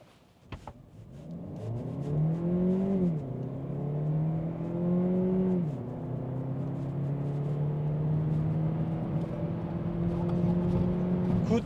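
A Kia Niro hybrid car accelerates hard from a standstill with two people aboard, its engine note rising steadily through gear changes into a sustained loud drone as heard from inside the cabin.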